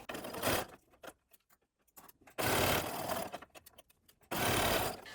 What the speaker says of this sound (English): I'm going to set my zigzag so one side of the needle lands on the shirt and then the other side lands on the binding